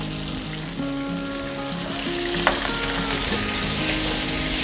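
Mushrooms and green beans sizzle and fry steadily in a paella pan, a close, continuous crackle with a brief clatter midway as the vegetables are stirred in.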